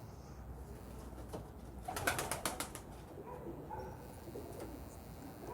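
Breeder pigeons kept by a fancier, with a brief quick run of wing flaps in the middle and faint cooing over a low background hum.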